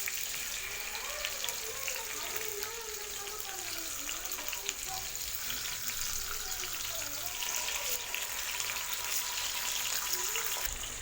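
Fish frying in oil in a pan over a low flame, giving a steady, even sizzle that holds at moderate level throughout with no pauses.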